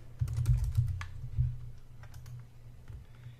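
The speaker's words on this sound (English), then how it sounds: "Type in the password." Fingers tap a password on a computer keyboard in a short, quick run of close, light clicks that slows toward the end.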